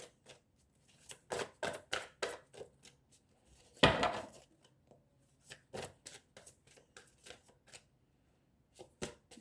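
Tarot cards shuffled and drawn by hand, giving a steady run of soft papery flicks and slaps with one louder riffle near the middle, close and quiet, with no talking.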